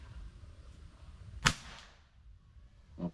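A rifle fires a single sharp, fairly close shot at a paper target roughly 55 yards away, followed by a fainter short knock a moment later, with no talk.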